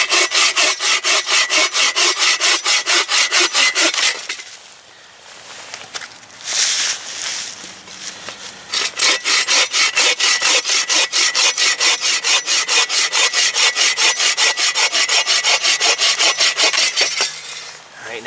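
A hand saw rasps through wood outdoors in snowy winter conditions with rapid, rhythmic back-and-forth strokes. It is loud and close, pausing briefly in the middle before resuming a steady sawing rhythm.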